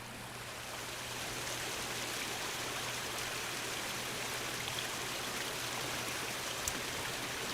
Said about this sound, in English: Mostly hearing rocks, brook, the splashing.